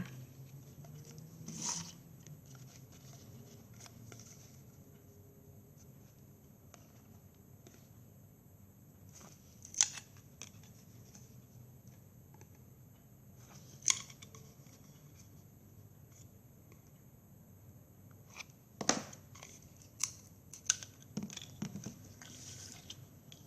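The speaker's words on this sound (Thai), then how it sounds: "นำหลอดมา ตัดที่ความยาว 4 เซนครึ่ง จำนวน 3 ชิ้น นะคะ" Scissors snipping a plastic drinking straw into short pieces, giving faint, sparse clicks and crisp cuts spread irregularly over a low steady hiss, with a small cluster of snips near the end.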